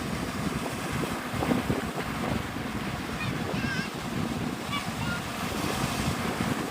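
Ocean surf rolls in at Navarre Beach, Florida, as a continuous wash of waves and wind buffeting the microphone, fairly loud and steady, with faint bird chirps now and then in the background.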